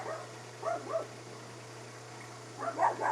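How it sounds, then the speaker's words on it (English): A dog barks in two short bursts, faint and somewhat distant, separated by a quiet gap over a steady low hum inside a camper. "Dog barking at 55."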